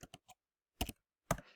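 Several quiet, sharp button clicks on a TI-84 calculator, a quick cluster of presses followed by a pause and then two more isolated taps, heard close and alone.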